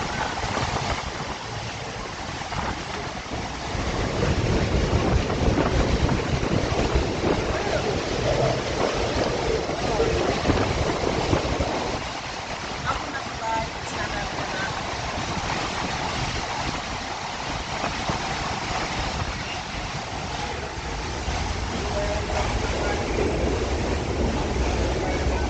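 Strong gusts of wind roar and buffet the microphone as a broadband rush, loudest in the first half and easing slightly later, with faint talk mixed in, recorded outdoors in hurricane conditions.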